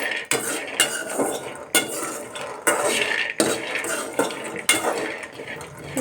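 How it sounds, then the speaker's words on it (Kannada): Peanuts roasting on low flame in a pan for North Karnataka peanut chutney, with repeated scraping and clattering strokes of a spoon against the metal pan every second or so over a light rustling crackle. "ನೋಡಿ ಚಟ್ಪಟ್ ಅಂತ ಇದ್ದಾವೆ ಶೇಂಗಾ ಎಲ್ಲ"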